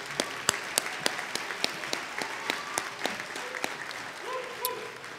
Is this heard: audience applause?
yes